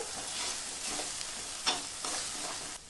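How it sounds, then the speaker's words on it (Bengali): Spice paste with salt sizzles in oil in a pan while being stirred, a soft steady frying hiss with faint scraping strokes and one brief sharper clink, fairly quiet and without speech. "এখন আমি পরিমাণ মতো লবণ দিয়ে কষাতে থাকবো"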